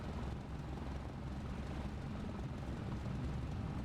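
A general aviation airplane engine drones steadily inside a flight simulator game, a continuous low rumble with broadband noise holding at an even level for the whole stretch, with no voices over it.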